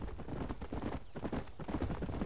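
Horse hooves clip-clop steadily in Red Dead Redemption, a continuous rhythmic trot with an occasional whinny, loud and close, with no talk over it.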